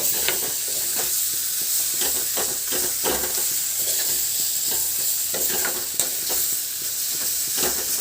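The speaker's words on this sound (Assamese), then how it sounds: "ভালকৈ লৰাই থাকিব যাতে কণী আৰু বেঙেনা একেলগে মিল হৈ যায়" Steady sizzling of egg and eggplant frying in a pan, with repeated scraping strokes of a spatula stirring throughout, close and fairly loud.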